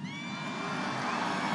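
A big outdoor political rally crowd in Iowa roars and cheers steadily, loud and sustained, with no distinct voice standing out.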